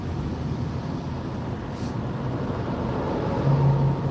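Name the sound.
highway traffic on I-4 eastbound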